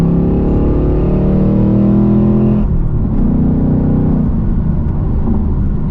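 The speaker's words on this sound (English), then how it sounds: "Like a little third gear rip." A 2024 Ford Mustang GT V8 revs hard in third gear, a loud close engine rip that holds for over two seconds, then drops and settles into a lower steady rumble.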